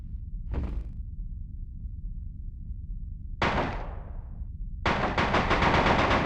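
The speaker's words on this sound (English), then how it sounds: "Let's try out the submachine gun." A submachine gun fires in the PS2 game Die Hard: Vendetta, with a single sharp shot, then a short burst with a decaying tail, then a rapid, sustained volley of crisp automatic shots, loud and close over a low background hum.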